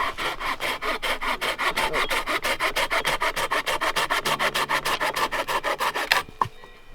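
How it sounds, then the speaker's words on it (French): Steady back-and-forth rasping of a saw cutting through damp wood at a campsite, a fast even rhythm of strokes up close, ending abruptly with a brief clunk. "on va se couper un petit peu de bois pour faire une table de feu"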